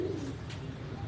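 Pigeons at a rooftop breeding setup give one brief, soft, low coo at the very start, faint against quiet background noise.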